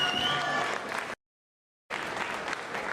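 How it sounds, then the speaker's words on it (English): A crowd at a boxing press conference gives a round of applause for two fighters. The clapping is moderately loud and is cut to silence for almost a second before it resumes, with faint voices mixed in. "Round of applause for these two."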